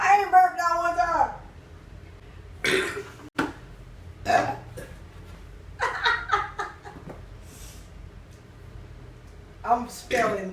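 Burps during a burping challenge, a few short rough belches spread across the stretch amid ongoing talk and laughter from the participants.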